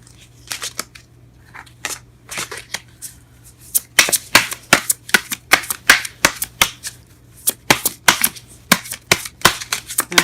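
Tarot cards are handled and shuffled close by, sparse flicks and taps at first, then a quicker run of crisp riffling snaps and slaps in an uneven rhythm, with no talk over them.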